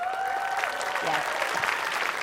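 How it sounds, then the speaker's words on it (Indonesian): Studio audience applause on an Indonesian talk show, a fairly soft, continuous patter of clapping with a voice briefly heard over it. "itu waktunya untuk tepuk tangan"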